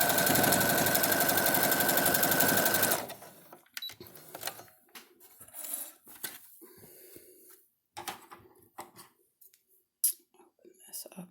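A sewing machine stitches a table runner in a steady, loud mechanical whir for about three seconds, then stops, leaving quieter handling sounds and light movement.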